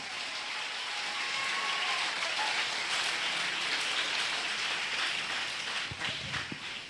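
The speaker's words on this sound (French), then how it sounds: "Si tu es d'accord, applaudis très fort le roi de" Loud, sustained applause from a church congregation fills the whole stretch, a dense even wash of clapping with a few sharper claps near the end.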